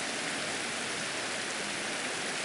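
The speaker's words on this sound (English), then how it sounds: "This drizzle's about to turn ugly" Steady drizzle in the Agatha Christie: And Then There Were None game, an even hiss of rain with a storm closing in, continuous and fairly close with no voices over it.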